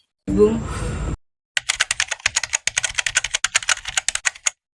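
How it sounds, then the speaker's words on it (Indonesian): Brisk typing on a keyboard or typewriter as the Indonesian independence proclamation text is typed, a quick irregular run of close, crisp key strikes following a short burst of breathy voice. "Sayuti Melik pun mengetik teks tersebut."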